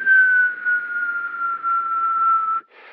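A voice imitates the whistling sound made while urinating: one steady, clean, high whistle sliding slightly downward for about two and a half seconds, close and alone.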